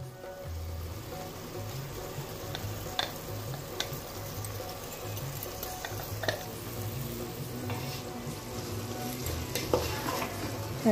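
Curry stirred and simmering in a large brass vessel, with a continuous close frying sizzle and repeated scraping strokes of the spoon against the metal, no talking.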